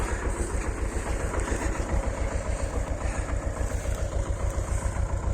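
A tractor engine runs steadily while plowing and clearing a field, a loud, close, rhythmic chugging drone heard from inside the cab.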